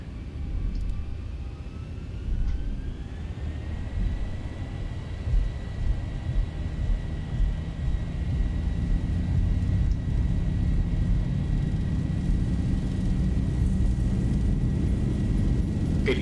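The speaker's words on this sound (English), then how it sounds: "Let's do takeoff." A Zibo Boeing 737-800 powers up for takeoff in the X-Plane 11 flight simulator, with a steady engine whine rising in pitch and a growing low rumble that stays continuous throughout.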